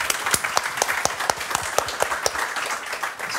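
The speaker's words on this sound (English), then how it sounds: "can we have a big round of applause for the tech guys here" Audience applause for the tech crew at a late-night show on new media culture, a dense wash of claps with sharp individual hand claps standing out, steady and fairly close for a few seconds.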